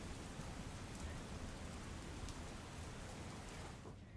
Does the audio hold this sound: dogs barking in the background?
no